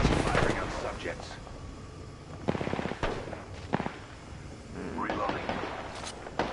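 Video game gunfire sounds in several bursts of rapid shots, some sharp and loud and others farther off, mixed with voices talking over it.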